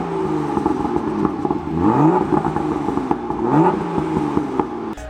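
A BMW M2 with the N55 engine revving, rising and falling engine pitch sweeps repeated a few times, loud and close with some mechanical clatter.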